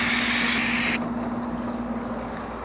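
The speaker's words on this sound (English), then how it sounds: "You want to rinse this whole coil off." Water rinses an air conditioner evaporator coil: a bright spraying hiss for about a second, then a duller steady rush over a constant low hum.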